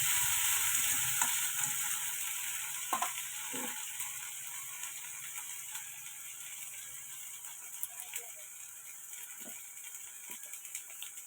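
Onion, ginger and garlic paste frying in a pan, giving a steady soft sizzle with occasional stirring scrapes and light clinks throughout.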